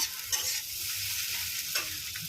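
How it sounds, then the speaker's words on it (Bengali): Beaten eggs with salt sizzle steadily in a hot pan as they are scrambled into an egg bhujia, a constant crackling fry broken by a few scraping stirs, close and with no talk. "এই যে নুন দিয়ে একটু ফাটিয়ে নেব, আর ভুজিয়া করে নেব। বেশি ভাজবো না।"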